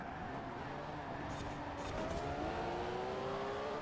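A TVR and a Carrera GT race through town corners in Forza Horizon, their engines droning and rising steadily in pitch, a continuous distant whine of acceleration with no voices.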